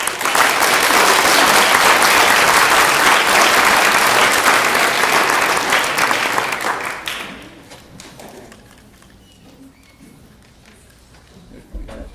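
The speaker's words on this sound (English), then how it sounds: "just give them a big round of applause as we get started on their show" Loud, sustained applause from an audience at a high school play in Portland, Tennessee, a dense wall of clapping that holds strong for several seconds and then fades out, leaving a quiet room.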